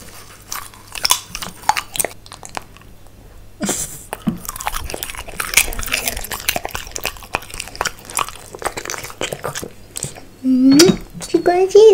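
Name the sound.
French bulldog puppy chewing popcorn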